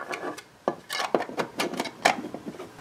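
Hard plastic knocks, scrapes and rubs as a genuine DeWALT 20V MAX battery top shell is pressed and shifted against a knock-off battery, irregular close handling clatter with no voices.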